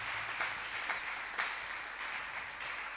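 Congregation applauding and acclaiming Jesus Christ at a live church revival service, dense continuous clapping from a large crowd with rhythmic surges, fairly distant and steady.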